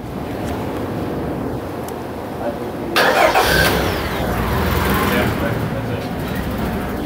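A Honda Accord with a no-power fault and swapped TPS and MAP sensor connectors starts up and idles close by, the engine catching abruptly and then holding a steady rumble under faint background noise.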